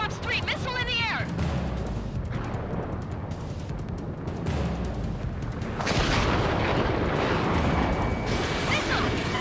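Missiles launch and explode in the Ace Combat 7 flight game, continuous heavy booms and roaring blasts rolling throughout, with a radio voice talking over the battle noise.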